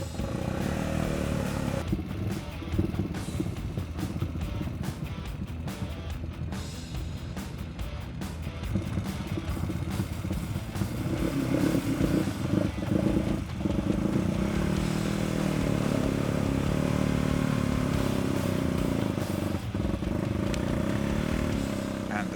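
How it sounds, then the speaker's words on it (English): A winch hauls a Sharmax QJ Motors Force 800 ATV stuck in snow, a steady mechanical whir and grind with rattling clatter that holds loud and unbroken throughout. "I think it's time to test the winch."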